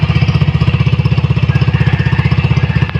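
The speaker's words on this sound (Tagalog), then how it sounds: "Tunog open muffler siya guys." A Yamaha Mio i 125 scooter engine fitted with an AI Tech open muffler pipe idles close and loud, a rapid, even low putter pulsing steadily without any voices.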